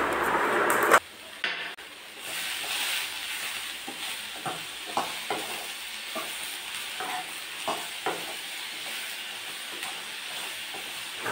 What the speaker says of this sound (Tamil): தக்காளி வெங்காயம் எல்லாமே நம்மளுக்கு நல்லா வதங்கி வரணும்,